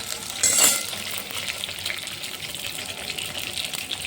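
Vegetables for sabzi, including brinjal, fry in a pan with a close, steady sizzle and stirring scrapes, a brief louder burst of hissing near the start, then continuous crackling sputter with no talking.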